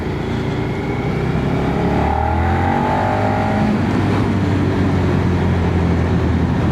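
A Suzuki SV650 V-twin motorcycle engine running, a loud continuous rumble that holds steady throughout with a rising and falling tone partway through, close by and with no talk.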